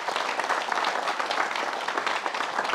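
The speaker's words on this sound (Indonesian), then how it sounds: "Tepuk tangan buat Chan Kelvin" Studio audience applause for guest Chan Kelvin on an Indonesian supernatural talk show, a dense steady patter of many hands clapping close by with no talk over it.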